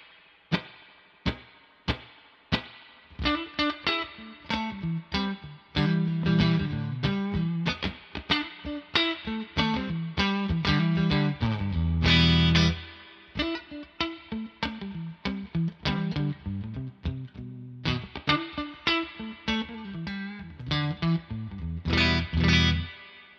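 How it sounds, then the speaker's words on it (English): Distorted electric guitar through a spring reverb pedal plays plucked notes and strummed chords drenched in heavy reverb, each hit trailing a long washy tail, alone and up close. "it's a reverb overkill right now"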